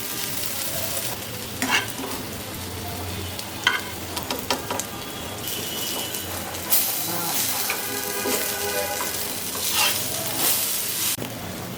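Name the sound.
frying lentil dumplings in oil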